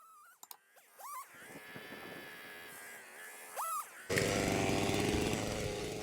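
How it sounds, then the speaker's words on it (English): Sped-up Stihl MS660 Magnum chainsaw with a 36-inch bar cutting a large pine tree, shrill high-pitched whine rising and dropping in pitch, then a loud dense cutting roar toward the end. "the chainsaw all of a sudden sounded like a high-pitched chipmunk"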